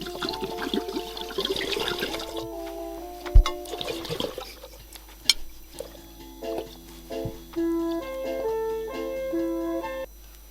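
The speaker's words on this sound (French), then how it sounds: "Dans notre récipient, nous allons ajouter nos 4 litres d'eau." Water being poured into a large container for homemade lemonade, a close gushing and splashing stream that tapers into lighter trickles, with faint background music and no voices.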